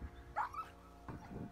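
Dogs that have just pulled their owner from a lake whimper and yip close by, a few short high-pitched cries in quick bursts with quiet gaps between them.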